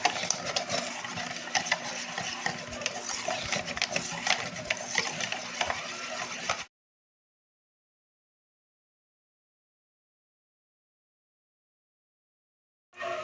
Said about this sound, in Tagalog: put our egg mixture to our flour mixture. Combine together with our ice cubes.